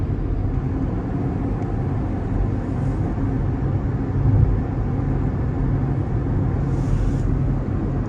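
Steady road rumble and engine drone from inside a car being driven during a driving school road test in Qatar, continuous and fairly loud with no talk.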